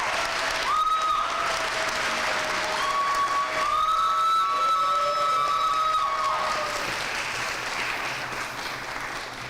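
Steady, loud applause from a large audience at a university honors convocation fills the whole stretch, with a few whistles and cheers rising above the clapping before it gradually eases.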